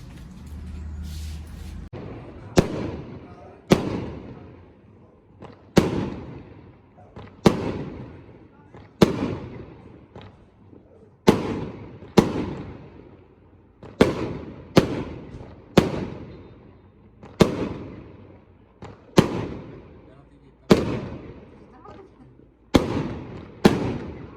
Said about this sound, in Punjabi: ਲਓ ਜੀ ਆ ਜਿਹੜੇ ਤੁਸੀਂ ਪਟਾਕੇ ਦੇਖੇ ਆ ਇਹ ਆਪਣੇ ਆਉਣ ਦੀ ਖੁਸ਼ੀ 'ਚ ਵਜਾਏ ਗਏ ਨੇ